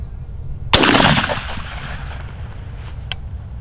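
A single loud shotgun blast from a round loaded with a cut shell, a sharp crack followed by a rolling, fading echo outdoors, then quiet.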